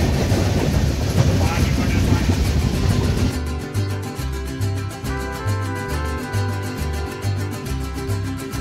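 A Konkan Railway passenger train runs through rainy coastal country, first as a loud broadband rush, then settling into a steady, rhythmic clickety-clack of wheels over rail joints that carries on without pause.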